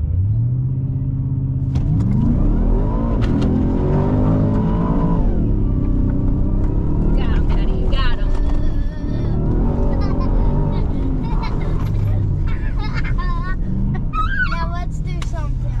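A 2024 Ford F-150 Raptor R drives over sand dunes, its engine rumbling loudly and continuously from inside the cab, rising as it revs, while people talk over it.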